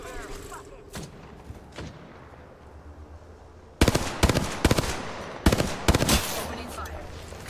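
Video game gunfire in a console ranked match: a quieter stretch with faint clicks gives way to loud, close, rapid automatic bursts in several clusters, separated by short gaps.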